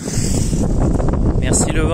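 Strong wind buffets the microphone outdoors with a constant loud rumble and gusty roar through the whole stretch, and a voice briefly speaks over it.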